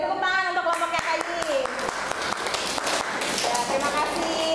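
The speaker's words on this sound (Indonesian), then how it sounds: "beri tepuk tangan untuk kelompoknya Kais." Pupils in a classroom clapping for a group, a loose patter of hand claps with some sharp individual taps, close and fairly quiet, with voices mixed in at the start.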